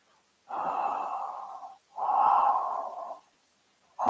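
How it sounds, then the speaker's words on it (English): Two long, close breaths drawn in through an open mouth, each a steady airy rush lasting over a second with a pause between, and a third beginning at the end. "And inhalation through your mouth."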